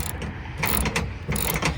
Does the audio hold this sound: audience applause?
no